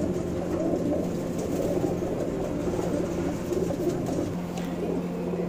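Roller tumbler pigeons in a Bangalore loft coo continuously and fairly close, a dense layered murmur of overlapping calls with a steady low hum beneath throughout.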